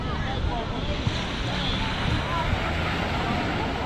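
Surf rolls in at Ipanema Beach in Rio de Janeiro, a continuous broad wash of waves with some wind rumble on the microphone, steady and fairly loud with no pauses.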